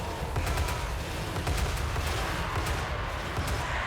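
Lead Belcher units firing in the fantasy battle game Total War: Warhammer 3, a dense, continuous crackle of rapid shots over a low battlefield rumble with no clear talk.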